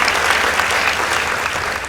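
Audience at a school debate competition between Maranda High School and St Peter's Disii Secondary School bursts into loud, dense applause, sustained steadily with no speech over it.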